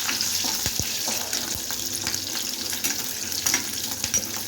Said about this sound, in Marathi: मिरची पण 2 मिनिटासाठी आपल्याला परतवायची आहे